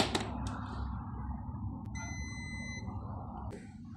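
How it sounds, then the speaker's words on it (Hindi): Continuity-test beep from a multimeter on an oven repair bench, a steady tone of about a second and a half rising out of low background hum, with short clicks before and after it. "बीप की आवाज़ आनी चाहिए।"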